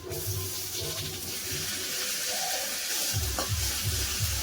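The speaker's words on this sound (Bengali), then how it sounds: "একসাথে আদা রসুন বেটেছি শিলনোড়াতে দেবো তেলের মধ্যে" Ginger and garlic, ground on a grinding stone, go into hot oil with already fried onions, producing a steady close crackling sizzle and a few stirring scrapes, with no voices.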